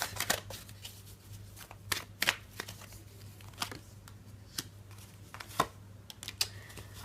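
Tarot cards being shuffled by hand in a quiet room, a run of soft papery riffles and flicks with sharper snaps scattered through, fairly close and alone without talk over a faint steady hum.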